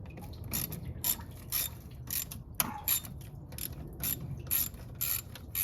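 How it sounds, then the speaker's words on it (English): A hand ratchet fitted with an 8mm socket turns a clip on the snorkel of a 2013 Chevy Tahoe during a radiator replacement, sounding as quick, crisp clicking bursts that repeat in an even rhythm, close and fairly quiet. "we're going to start with loosening up this clip, which is a 8mm socket."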